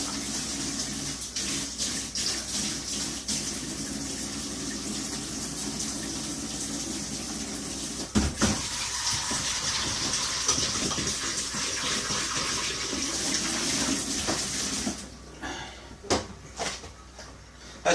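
Tap water runs steadily into a kitchen sink while a dish is washed, a continuous hiss and splash with brief clatters and a dip as the flow changes near the end.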